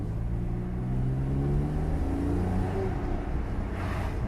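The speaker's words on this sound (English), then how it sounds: "that sweet Porsche sound" A 997 Gen 2 Porsche 911 Carrera 4S with a dual-clutch gearbox revs hard, its engine note climbing steadily in pitch, loud and continuous with a deep rumble underneath.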